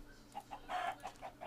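Chickens in the game Minecraft cluck in a series of short, evenly spaced bursts, with one longer, louder squawk in the middle, all close and clear with no talking.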